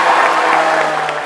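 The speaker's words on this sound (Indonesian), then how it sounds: "Tepuk tangannya dong." A short burst of clapping from a crowd, dense and steady, fairly close and loud.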